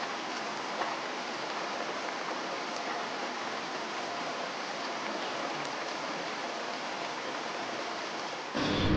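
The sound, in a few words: heavy rain outside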